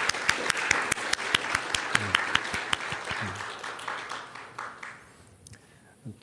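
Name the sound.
congregation applause in church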